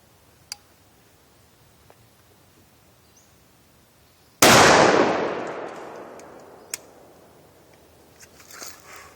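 A Laser Arms XT-15 28 gauge single-shot shotgun with a 14-inch barrel fires one loud, close blast of round ball or buckshot, with a long decaying echo after a few faint clicks.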